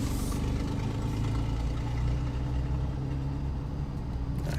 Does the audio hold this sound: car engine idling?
yes